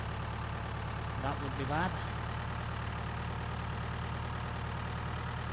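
Tractor engine idling in Farming Simulator 19, a steady low drone running through the whole stretch while someone speaks briefly over it.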